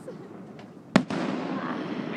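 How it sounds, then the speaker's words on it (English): Fireworks burst at a public display, one sharp loud bang followed by a sustained crackling, sizzling spray that fills the rest of the moment, with faint crowd voices underneath. "these are like serious fireworks"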